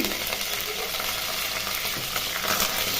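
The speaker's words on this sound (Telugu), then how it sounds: "ఇప్పుడు తాలింపు గిన్నెలు బాగా వేగిపోయాయి ఇందులో కొద్దిగా కరివేపాకు వేసుకొని" Curry leaves fry in a hot tempering of oil and spices for coconut chutney, giving a steady, close crackling sizzle with no talk.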